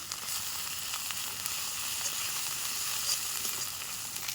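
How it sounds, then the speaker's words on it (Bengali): Spice paste with turmeric frying in oil, a continuous close hissing sizzle with faint stirring ticks, steady and alone. "একটুখানি হলুদ মশলাটা দিয়ে ভালো করে নাড়াচাড়া করে নেব সুন্দর করে কষে নিচ্ছি"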